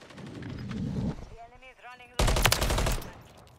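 In a competitive online shooter match, a loud, sharp burst of gunfire breaks in near the end, following a stretch of a player's voice talking over the game.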